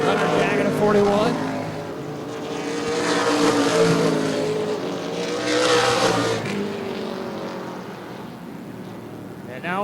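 Stock cars in an ARCA/CRA Super Series race at Baer Field Motorsports Park roar past in loud, swelling engine waves. An announcer talks over them throughout.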